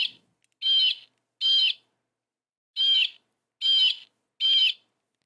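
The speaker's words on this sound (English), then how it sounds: "Here is a Blueberry Squawk for you." Five loud, harsh squawks of a bird sound effect ring out in separated bursts, each about a third of a second, with silence between them, played as a stream redemption during a Sims 2 session.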